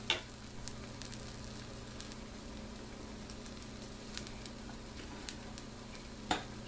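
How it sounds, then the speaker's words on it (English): Apple pie French toast frying in the middle of a pan gives a steady, even sizzle throughout, with a few faint ticks and pops over a low background hum. "I'll let it be in the middle of the pan so that way it gets all of the browning on the bread there."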